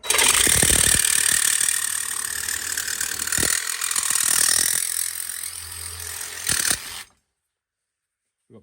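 A battery-powered Parkside jigsaw with a metal blade cuts through aluminium, giving a loud, continuous buzzing rasp with a few louder judders for about seven seconds before it cuts off into silence.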